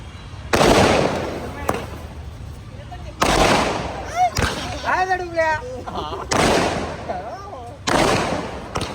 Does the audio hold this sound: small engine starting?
no